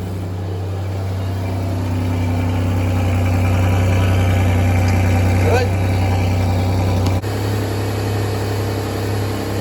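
Chevrolet S-10 pickup engine idles steadily after starting, with a smooth, quiet low hum throughout and a brief shift in tone near the end.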